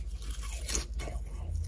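A bite into a thick, crispy breaded pork cutlet from a supermarket bento gives a few close, faint crunches followed by soft chewing in a quiet car.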